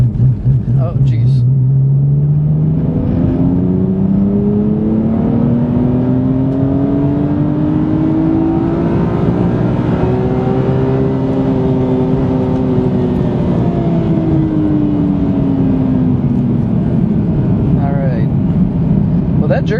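A car fitted with a turbo kit is floored in third gear from about 2,000 RPM, its loud engine drone rising steadily in pitch over many seconds and then easing back down, with a voice speaking over it.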